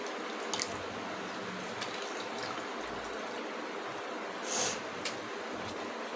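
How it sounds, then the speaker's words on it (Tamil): Liquid is poured little by little into a cooking pan in a home kitchen, giving a soft steady trickling stream with a few faint clinks, quiet and close. "கொஞ்சம் கொஞ்சமாக ஊற்றுங்க நிறையா ஊற்ற தேவையில்லை கொஞ்சம் தான் ஊற்றுவேன்"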